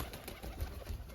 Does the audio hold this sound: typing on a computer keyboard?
no